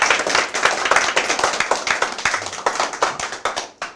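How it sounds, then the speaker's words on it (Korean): Audience members at a Korean lecture hall event clap together in a dense burst of applause lasting about four seconds, steady and fairly loud, trailing off at the end. "우리가 서로 자부심을 좀 가지시라고 박수 한번 치겠습니다."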